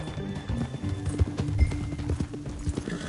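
Horse hooves in Red Dead Redemption II clip-clop in a quick, uneven rhythm, close and fairly loud, as though at a trot, over a light background rustle.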